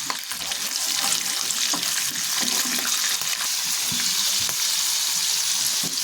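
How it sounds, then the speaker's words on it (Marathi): Fresh peas frying in hot oil with asafoetida for samosa filling, a steady dense sizzle with light stirring scrapes throughout, close and even in loudness, no speech. "आता यामध्ये आपण वाटाणे घालून घ्यायचं"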